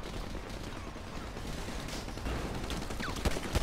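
Pistol fire in the video game GTA Online, a rapid series of close gunshots whose sharp cracks stand out near the end over a dense, noisy game soundtrack.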